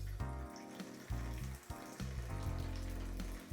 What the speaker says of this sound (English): Let's go ahead and pop that open and give it a pour.